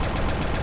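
Cannon fired in a Buzz Lightyear video game, a brief dense burst of blast noise lasting under a second.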